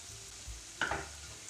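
Grated carrot and onion stew in a pan with a pinch of sugar, giving a soft steady sizzle with a brief stirring scrape in the middle, close and fairly quiet, with no talk.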